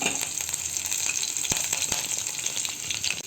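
Cumin, mustard seeds, green chillies and curry leaves hiss and crackle steadily in two spoonfuls of hot oil, with a couple of sharp pops, close and fairly quiet with no talking.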